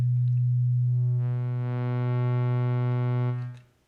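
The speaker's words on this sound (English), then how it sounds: "Here's our sine wave." A pure sine wave from the oscillator of the u-he Tyrell N6 software synth holds a steady low pitch, then brighter harmonic overtones join partway through before the tone fades out; no talking.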